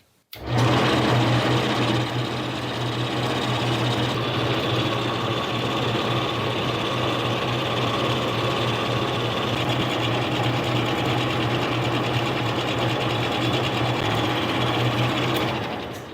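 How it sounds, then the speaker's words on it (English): A Harbor Freight mini lathe reams a hole in a turned workpiece, its motor giving a steady, loud, humming whir that starts abruptly, runs evenly and then fades out at the end. "I like to bring that reamer right up to that hole that I'm going to ream and bump it up against there"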